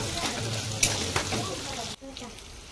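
Chopped onions sizzle steadily in hot oil in a home kitchen pan, a close, even crackle with a few sharper spikes, then quieter frying after a brief clatter, with faint talking underneath.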